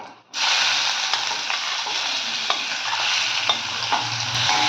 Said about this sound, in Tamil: பேட்டர் பண்ணி வச்சு ப்ரான்ஸை போட போகிறோம்.